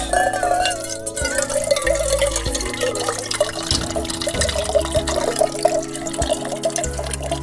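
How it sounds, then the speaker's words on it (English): Water pours and trickles into a small metal quart pot outdoors, a continuous close splash and gurgle with a few drips, steady and fairly loud over faint background hum. "Fill it up there enough for one man cup of tea."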